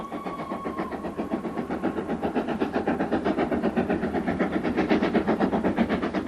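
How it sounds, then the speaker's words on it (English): Steam locomotive on the West Highland line running under way, a rapid, regular chuffing beat that grows slightly louder and more insistent, loud and sustained with a faint whistle-like tone early on. "I just love the sound of it. Steam engines"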